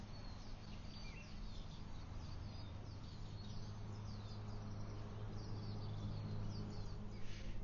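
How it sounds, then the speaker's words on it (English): Faint birds chirp in scattered high calls over a low, steady background hum. "these bird chirps are like actually giving me life right now"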